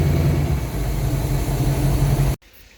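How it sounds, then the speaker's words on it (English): A low-revving engine fitted with a Rochester Quadrajet carburetor idles in a steady, loud, low rumble that holds until it cuts off abruptly near the end, leaving faint background. "get it hot enough to get this perfect for such a low revving engine at idle"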